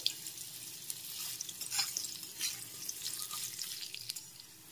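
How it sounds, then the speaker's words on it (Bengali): Potato pieces stir-fried in a pan for a bitter gourd and potato dish give a continuous close hiss and sizzle, broken by scraping bursts of stirring. "আলুটাকে একটু নেড়ে চেড়ে ভেজে নিতে হবে।"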